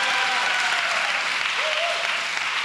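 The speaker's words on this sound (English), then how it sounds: "Give a clap" Podcast audience breaks into continuous, even applause, a dense wash of many hands clapping together with a faint voice sliding through the middle.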